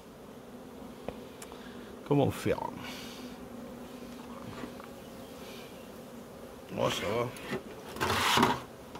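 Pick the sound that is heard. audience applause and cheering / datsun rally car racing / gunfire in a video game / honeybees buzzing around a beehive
honeybees buzzing around a beehive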